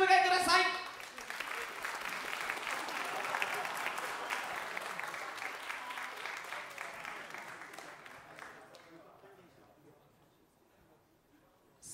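Audience applause at a fighting game tournament's second-round matches, a dense burst of clapping that holds steady for several seconds and then gradually tapers away to near silence.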